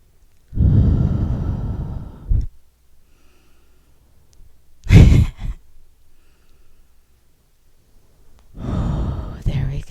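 Deep, audible breaths during a chair yoga exercise at a health club: a long slow inhale, a brief sharp breath midway, then another long breath, close to the microphone.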